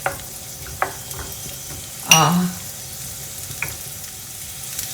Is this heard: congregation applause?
no